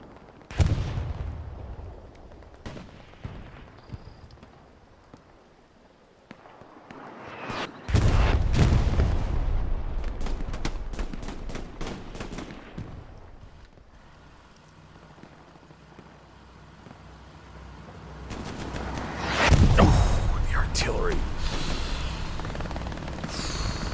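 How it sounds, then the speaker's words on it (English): Artillery fire in the video game Hell Let Loose, on the Carentan Causeway map: heavy booming impacts and rolling explosions with scattered gunfire, loud bursts separated by quieter rumbling stretches, no voices. "Artillery can be so brutal."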